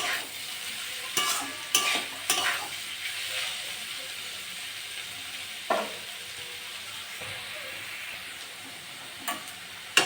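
Pointed gourd and potato stir-frying in a home kitchen pan give a steady low sizzle and hiss, broken by a few sharp clinks and scrapes of stirring spread through the stretch.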